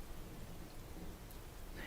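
Steady rain falls on a dark night, a dense, even hiss with a low rumble underneath and no voices.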